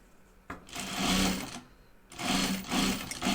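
A sewing machine stitches around the perimeter of a fabric project bag in two close, steady whirring runs, separated by a short pause.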